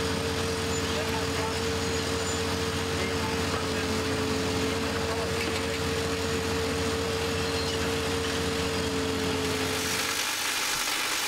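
A drill rig engine running at a steady drone, loud and continuous with a constant low hum, then thinning out near the end, with no speech over it.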